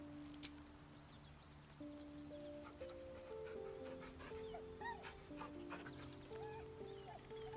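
A dog whimpers and yips in Baldur's Gate 3, soft whines and short yelps rising and falling over sustained game music and quiet ambience.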